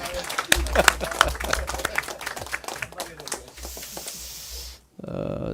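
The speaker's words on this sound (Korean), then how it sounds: "강금실, 이석연 두 분에게 큰 박수 부탁드립니다" Audience applause at a Korean political gathering, honoring two lawyers who served as campaign committee chairs; a burst of scattered claps and cheering rises with a voice over it, thins into a steady wash, then cuts off before talk resumes.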